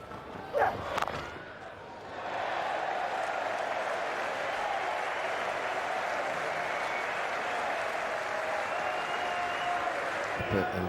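Cricket crowd at an England vs Sri Lanka test match breaking into sustained applause after a brief moment of speech, a broad steady clapping from the stands that holds at even loudness.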